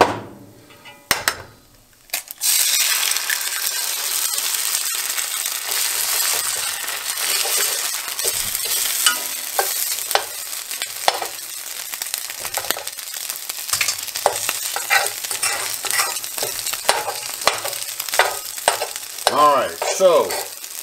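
An egg frying with pemmican in a smoking-hot pan gives a steady close sizzle and crackle, with scraping stirs and occasional taps of a utensil against the pan throughout.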